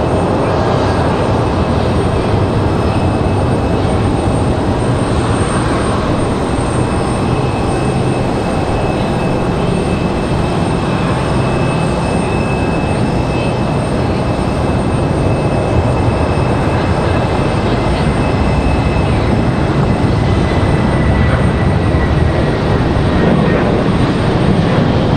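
Avelo airliner taxiing at Raleigh-Durham International Airport, a continuous broadband engine rumble with a thin steady whine that fades slowly, heard alone without talk.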